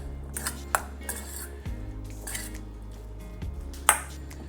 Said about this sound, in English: I think it's easier with our spoon to mix up our rice here.